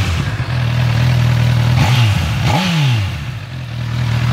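A Honda CB1000R motorcycle idles, then accelerates hard with rising and falling engine sweeps as it pulls a wheelie in third gear before settling back. The engine is loud and close, with no talk.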